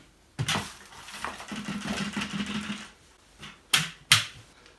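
A Dyson Ball Animal 2 upright vacuum's dust bin being emptied, with a clattering rush of debris lasting a couple of seconds, then a few sharp knocks and clicks as the bin is handled and closed.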